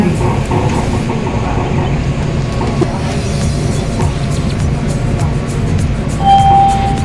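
Electric train on the Pink Line monorail from Rama 9 toward Min Buri market, a steady loud rumble of the moving carriage with a brief chime tone near the end, heard from inside.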